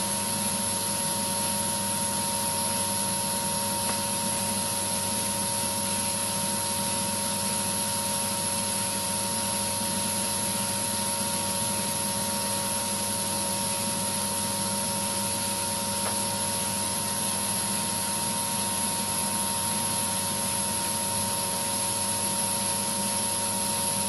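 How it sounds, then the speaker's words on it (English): A microdermabrasion vacuum device works over facial skin, giving a steady, continuous mechanical hum and hiss with a fixed tone, fairly faint and unbroken throughout, with no talking. "you can actually just work the vacuum over the area, just with a slight patting action on the skin"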